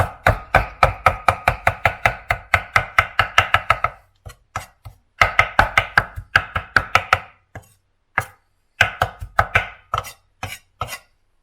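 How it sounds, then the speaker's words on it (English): Knife chopping through a spatchcock chicken on a board, a fast run of sharp, even cuts, then a short pause and further quicker bursts of cuts, close and loud with no talk. "we're just going to turn and run the knife through again"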